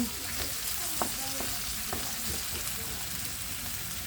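Crushed and whole garlic cloves fry in a pan, giving a steady close sizzle with a few soft clicks and stirring scrapes throughout, with no talking.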